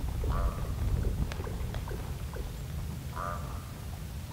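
Ravens give two harsh, strange calls a few seconds apart, at a distance outdoors near a young elk, over steady wind or water noise.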